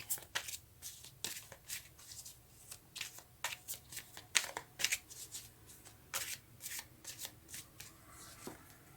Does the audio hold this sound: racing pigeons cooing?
no